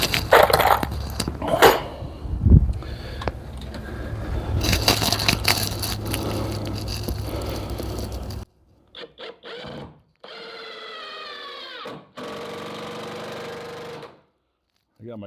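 A screw gun set low drives long screws through 2x2 wood during a camper trailer wing install, with a few whining bursts of a few seconds each after a stretch of louder clattering work noise.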